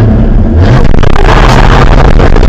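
A 1975 Ford Maverick with an inline-six engine revs loudly and close by, rising from a steady idle into a rough, throaty climb that holds strong and stays busy to the end, with no talking.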